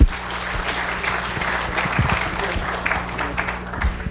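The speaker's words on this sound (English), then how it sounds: "And so a big round of applause to our firesiders." Audience applause for panel speakers at a tech conference, moderately loud and steady, with a low hum and a few nearby thumps underneath.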